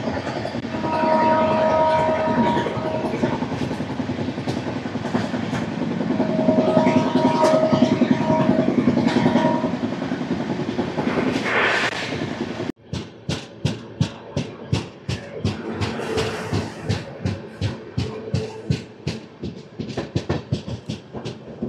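Tirupati AC Double Decker Express, a Visakhapatnam to Tirupati train, running at speed with a loud steady rumble and roar, then a rapid rhythmic clickety-clack of wheels over rail joints, close and continuous.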